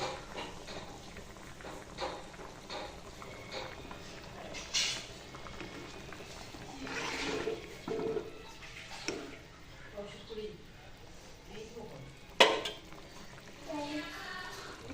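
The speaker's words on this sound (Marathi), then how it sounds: "बटाट्याच्या आमटीला उकळी आले छान बटाटे भाजी उकळालेली" Potato amti curry bubbling at a boil in a pot, a steady low simmering hiss with a few soft clinks of a spoon or pot, fairly quiet throughout.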